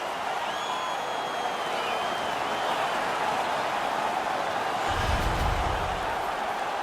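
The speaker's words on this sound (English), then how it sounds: "The crowd is all over them right now." Crowd at an NHL 19 video game hockey match roars in a steady, dense wash of noise at fairly high level, with a brief low thump partway through.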